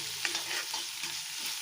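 Onions sauté in an iron pan, a close, steady sizzle with brief stirring scrapes over about a second and a half, moderate in level.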